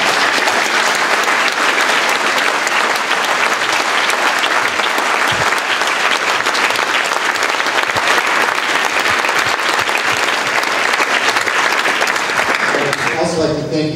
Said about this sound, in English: let's have a round of applause for all of you